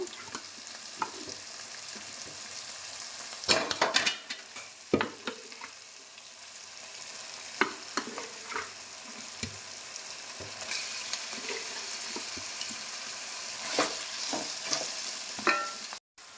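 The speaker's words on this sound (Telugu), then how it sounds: "అలాగే కలిపి పెట్టుకున్న చేప ముక్కలు కూడా వేద్దాము" Fish pieces fry in a pan with tomato, onion and green chilli for a fish curry, giving a continuous close sizzle, with sharp scrapes and clatters as the mixture is stirred.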